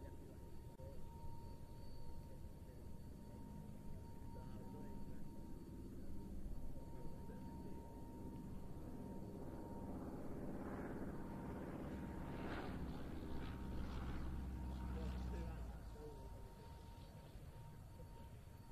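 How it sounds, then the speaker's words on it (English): A Piper Super Cub light aircraft arriving at an airshow, its engine drone building from a distant hum to a steady nearer roar and easing off toward the end, heard alone with no talk. "A Piper Supercarb arriving now from the Shuttleworth collection."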